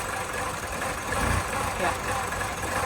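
Peugeot 207CC engine idling with a faulty rattle, a low, steady mechanical drone with a slight swell partway through, recorded close for a few seconds.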